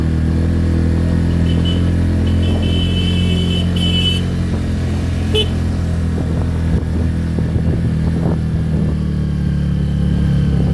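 A motorcycle engine labouring uphill in first gear on a long steep ride toward a temple, a steady loud low drone with slight rises in revs, close and continuous, no talk.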